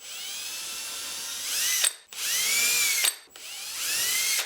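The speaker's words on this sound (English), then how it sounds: "Got the holes drilled." A power drill pre-drills holes in wood for a bird feeder, in three close, loud bursts of whining bit-on-wood drilling, each rising in pitch and cutting off briefly before the next.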